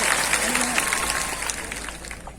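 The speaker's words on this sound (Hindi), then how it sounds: "इसलिए एक बार जोरदार तालियां आप सबके लिए" Crowd applause fills a hall at the founding of the Bharat Adivasi Party, a dense steady clapping throughout with a faint voice or whistle-like tone briefly over it.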